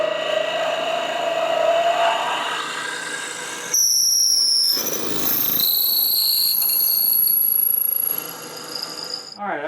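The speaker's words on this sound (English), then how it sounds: "okay, got the 3/8 inch drill bit mounted" A 3/8 inch drill bit re-drilling a hole in a wooden twig pot on a lathe, a loud whining, squealing high-pitched drone that shifts pitch as the bit cuts, heard close up without talk.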